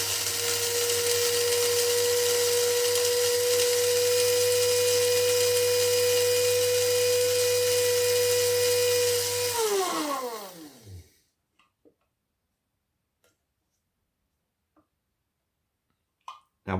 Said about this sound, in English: Just gonna see if we can take and clean up the residue that's in the coffee grinder